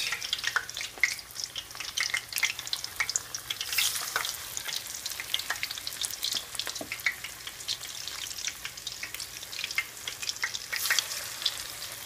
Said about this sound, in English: So these are going to boil for a little bit, fry actually, and they should start to turn golden brown on the outside soon.